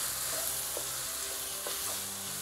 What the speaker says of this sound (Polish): Wszystko pomieszamy